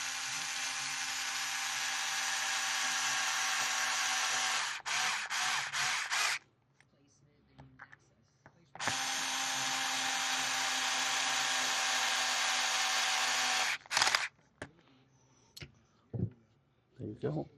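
A power driver spins screws into an RC car's fan mount in two long, steady whirring bursts, each followed by short stuttering pulses and quiet pauses.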